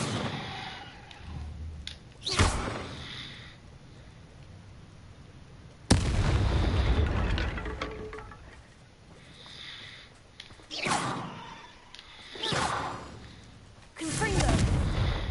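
Confringo spell blasts explode in a Harry Potter video game, several heavy booming bursts spaced a few seconds apart, each with a sharp onset and a rumbling tail, with occasional spoken words between them.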